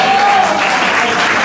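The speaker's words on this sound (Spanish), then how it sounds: "Un fuerte aplauso." Applause at a restaurant award dinner for historic vehicles: a short burst of steady clapping from a crowd, fairly loud and continuous.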